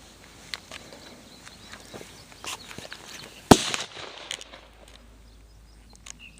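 A single sharp report from a small handgun at an outdoor range in Riverbreaks Conservation Area near Oregon, Missouri, standing out loud and close against quiet ambient noise with faint footsteps.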